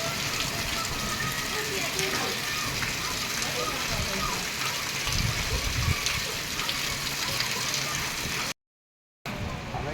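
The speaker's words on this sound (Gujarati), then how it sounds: "જો ભાઈ ધોધમાર વરસાદ ચાલુ થઈ ગયો." Heavy monsoon downpour in a Gujarati village: a dense, steady roar of rain runs almost without a break, with a brief dropout near the end and faint voices mixed into the wash.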